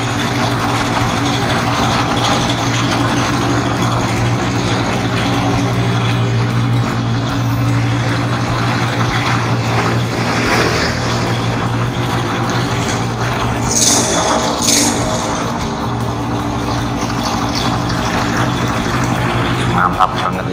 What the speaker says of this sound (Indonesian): motornya sekali starter langsung menyala ya